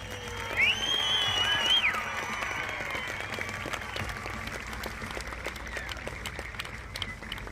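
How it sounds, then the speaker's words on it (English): A rodeo grandstand crowd at the Will Rogers Memorial Rodeo grand entry in Vinita, Oklahoma applauds the flag, sustained clapping and cheering with a high whistle near the start and an announcer's voice faintly underneath. "I want you to give Old Glory the biggest round of applause you can"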